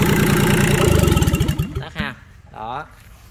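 Yanmar 3T68 three-cylinder diesel boat engine, 19 hp, running loud and close with a rapid chugging rhythm that slows and stops partway through, followed by someone talking.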